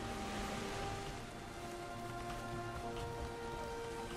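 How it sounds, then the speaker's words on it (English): Rain falls in the survival game Valheim, a soft, steady, faint patter and hiss that holds evenly throughout with no talk over it. "The mist has gone, but rain has come."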